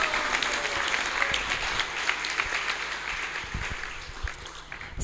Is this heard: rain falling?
no